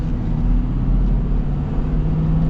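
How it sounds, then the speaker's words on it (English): Aggressive tires on a Ford F-450 Platinum rolling on 26-inch wheels give a steady, dense low rumble of road roar, continuous and fairly loud. "Now it's got pretty aggressive tires, obviously. You can hear them."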